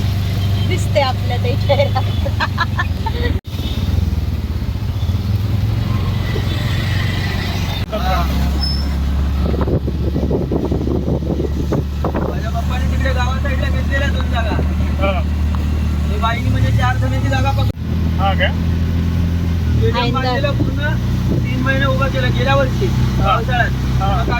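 Steady engine drone of an auto rickshaw riding near Uttan in Mumbai, a constant low rumble throughout with people talking over it.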